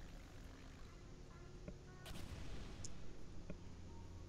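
Automated turrets firing in Portal 2, a few sharp, scattered bursts popping over a muffled background rumble at moderate loudness.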